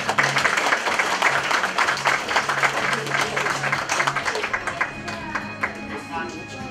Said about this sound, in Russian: Хлопаем.